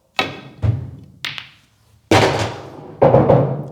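Pool balls are struck and knocked into a pocket: a few sharp, separate thuds and clacks with short pauses between, close and fairly loud, and no talking.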